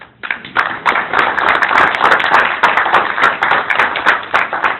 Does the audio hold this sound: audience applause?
yes